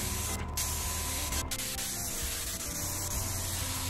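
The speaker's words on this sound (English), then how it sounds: "There's hardly any overspray with this gun." A paint spray gun hisses steadily as it coats a garage door grey, a continuous close spray with a couple of short tonal bursts and a faint low hum underneath.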